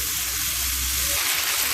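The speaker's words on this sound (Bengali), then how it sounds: "সুন্দর ভাজা হবে ধীরে ধীরে।" Close, continuous sizzle of spices and potatoes frying in a pan for Poli fish curry, steady and loud with a faint stir near the end.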